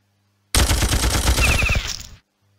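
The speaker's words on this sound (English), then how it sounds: "Let's test the tank shell again." Tank shell fire from the Thresher tank unit in the Battle Nations game: a dense, loud burst of rapid blasts lasting about a second and a half, then fading out, alone without talk.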